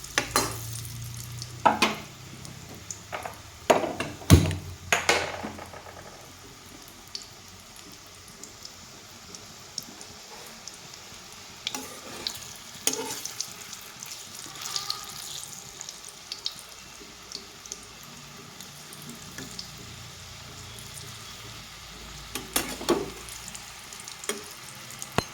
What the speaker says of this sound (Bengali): তো লাল লাল করে আমি কোপ্তাগুলো ভেজে নিব।